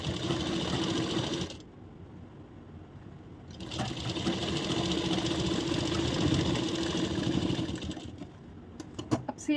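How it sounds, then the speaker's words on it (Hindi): A sewing machine runs in close, loud continuous bursts while stitching a tucked blouse, stopping briefly partway through before resuming; a few light clicks follow near the end, with no speech. "इस तरह ब्लाउज से बिल्कुल अटैच करते हुए सिलाई लगाएंगे।"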